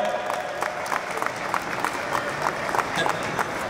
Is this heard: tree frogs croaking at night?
no